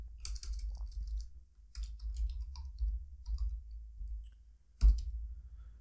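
Fingers type on a computer keyboard in short, quick bursts of close, crisp clicks separated by pauses, ending with a single sharper key strike.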